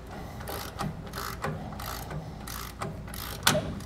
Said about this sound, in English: go ahead and remove all the nuts and bolts securing these to the axle